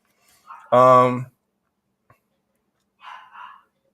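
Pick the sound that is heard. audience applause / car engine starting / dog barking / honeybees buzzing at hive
dog barking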